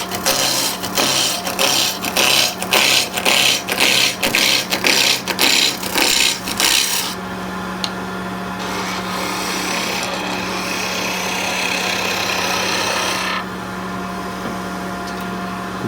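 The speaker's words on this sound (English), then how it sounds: "the lathe goes on. And again, peeling cuts for roughing out" A wood lathe takes peeling roughing cuts on skipping rope handles, giving a rhythmic scraping and chattering for about seven seconds, then a steadier hiss and hum as the motor keeps running.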